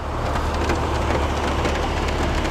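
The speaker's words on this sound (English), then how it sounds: "Of course, today's raining though." Steady rain heard from inside a car on a wet commute, a continuous broadband hiss with a low rumble underneath, even and moderately loud throughout with no talking.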